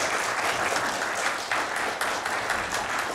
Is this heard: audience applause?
yes